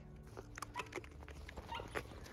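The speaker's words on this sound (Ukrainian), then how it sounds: "Сарделька, не гавкай." A dog gives soft, short yips and whimpering barks at close range, faint and scattered over a couple of seconds in a quiet room.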